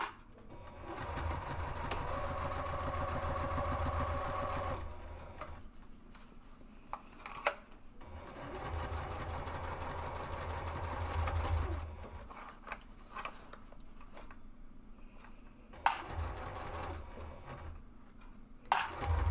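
A sewing machine stitches fabric for a divided caddy, including back stitching, in two long steady whirring bursts with short pauses and light clicks between, close up with no talk.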